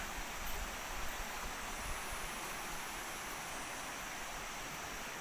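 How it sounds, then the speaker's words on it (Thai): Khlong Lan waterfall in the dry season, a steady, broad rush of falling water that holds an even, moderate level throughout, with no voices present. "เพื่อไม่เป็นการเสียเวลาจะพาคุณผู้ชม ไปชม ตรงที่น้ำตกเลยค่ะ"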